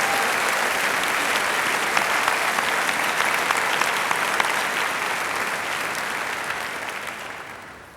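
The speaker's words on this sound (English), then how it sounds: "Please join me in a round of applause for these fine employees." A graduation ceremony audience breaks into sustained, dense applause that fills the hall, then gradually fades out toward the end.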